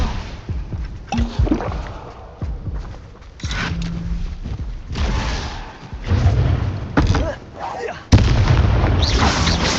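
Incendio fire spell cast in Hogwarts Legacy combat, with repeated booming bursts and whooshing blasts in an uneven rhythm, loud and close, a spoken voice weaving through.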